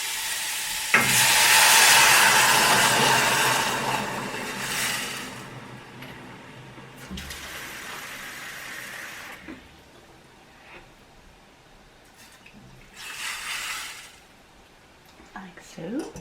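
Two cups of water pour into a pot of lentil curry soup, giving loud hissing sizzles and splashy bursts that come and go, with a person talking between them.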